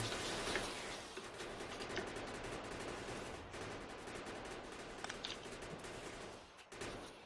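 Automated gun turrets in the game Factorio fire in a dense, continuous rattling barrage during a push into enemy bases, with the rapid overlapping shots holding steady and fairly faint throughout.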